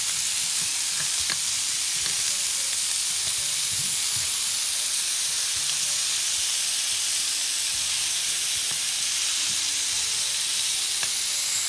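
Food sizzles steadily in a little oil at the bottom of a sheet pan or frying pan, a dense continuous hiss with a few faint clicks and pops, close and alone without talk.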